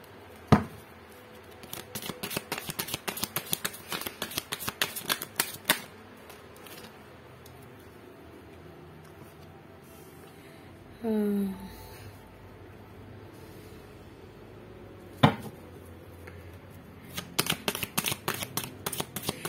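Tarot cards are handled during a reading: bursts of crisp riffling and shuffling taps, a pause, a brief card-drawing rustle, a sharp snap, then more shuffling, close and moderately loud with no talk.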